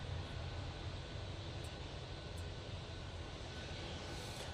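Embraer E190 jet airliner departing Manchester Airport for Amsterdam Schiphol, a steady, fairly distant broadband engine roar that holds at an even level throughout with no voices.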